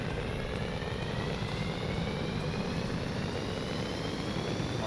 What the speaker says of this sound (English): Oh, it's a jet train.